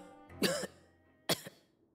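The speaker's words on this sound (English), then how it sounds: "what is that cough?" Two short, close coughs in a Genshin Impact story scene come about a second apart, the second ending in a small extra hack. Quiet in between.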